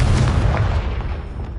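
A Confringo blasting spell goes off in Hogwarts Legacy, giving one loud booming explosion that starts at full force and then rolls into a dull rumbling decay.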